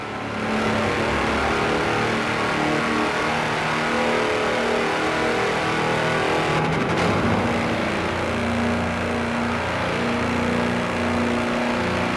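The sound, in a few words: tractor driving fast in video game Forza Horizon 4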